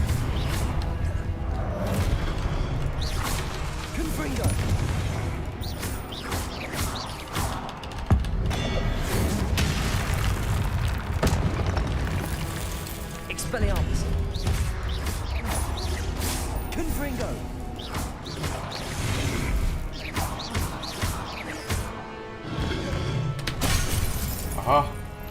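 Spell casting and magical explosions in the video game Hogwarts Legacy: a steady barrage of shattering crashes, whooshes and booms over a dense game soundtrack, with a voice calling out spell names throughout.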